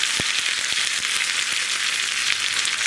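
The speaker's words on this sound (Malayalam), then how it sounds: "കടുകൊന്ന് പൊട്ടി തുടങ്ങട്ടെ" Mustard seeds spluttering in hot coconut oil for a Kerala potato curry tempering, a dense frying hiss with a few sharp pops scattered over the short stretch, close and alone.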